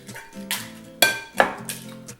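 Eggs are beaten in a large bowl, giving a few sharp clinks and knocks of a utensil against the bowl among softer swishing strokes, close and fairly loud.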